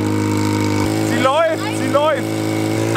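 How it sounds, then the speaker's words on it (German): A cheap used motorcycle engine idles steadily on choke while cold, a constant low mechanical hum, with someone talking over it throughout. "Der Choke erhöht die Drehzahl und deswegen läuft der Motor am Anfang, wenn er noch kalt ist."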